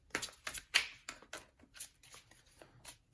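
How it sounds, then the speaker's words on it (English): Tarot cards being shuffled by hand in a quiet room, a run of crisp riffling snaps and soft slides in uneven bursts, close and clear with no voices. "Doing a little shuffling on camera today,"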